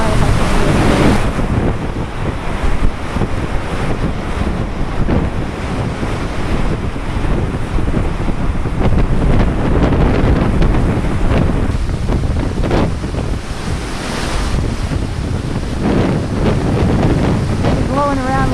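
Hurricane Sandy's strong wind blasts into the microphone with constant loud roaring buffeting, and waves surge and crash close by at a beach camp.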